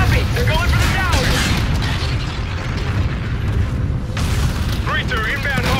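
A missile strikes a defensive tower in the Call of Duty Infinite Warfare shooter, erupting in a loud, sustained boom with rumbling blast noise under urgent radio chatter from soldiers.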